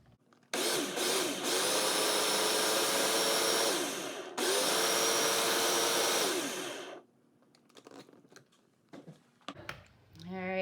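A blender purées parsnip cauliflower soup until smooth, a loud close whirring motor running about six seconds with a brief dip, then stopping, followed by faint clatter and a short voice at the end.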